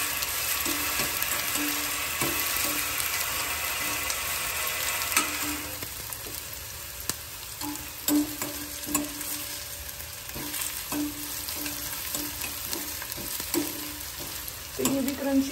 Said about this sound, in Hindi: तो ये अभी फ्राई हो जाएंगी, क्रंची हो जाएंगी इसी के साथ